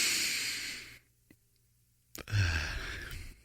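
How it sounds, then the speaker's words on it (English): A single deep breath drawn in slowly through the mouth, soft and close, followed by a brief pause and a sharper breathy intake, with no talking. "It's about taking a deep breath."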